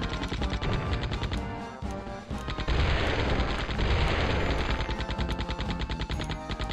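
Grenades and gunfire burst in the Gex 3: Deep Cover Gecko video game, a dense, continuous barrage of rapid explosive pops and crashes under game music.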